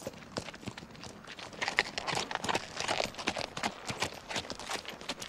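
Horses ridden at a walk, their hooves clip-clopping in a steady, irregular rhythm throughout, moderately close, with no voices over them.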